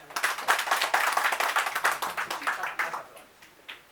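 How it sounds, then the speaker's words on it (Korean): Lecture audience applauding together, a dense burst of many hands clapping that peaks early and thins out over a few seconds, with a few scattered claps trailing at the end. "박수 한번 보내주세요."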